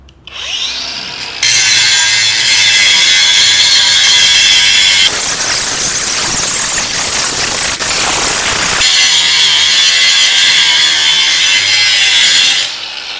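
A DongCheng DCSM03-125 cordless angle grinder cuts into wood with a loud, steady high-pitched whine and rasping bite, running continuously for most of the stretch with a rougher, heavier cutting phase in the middle.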